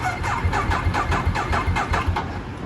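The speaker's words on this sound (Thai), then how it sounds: "สตาร์ตติดง่ายจริง อันนี้คือเครื่องเย็นๆเลยนะครับ" A cold Ducati 848 Evo sports motorcycle turns over with a steady repeating starter rhythm, close and fairly loud, with no voices over it.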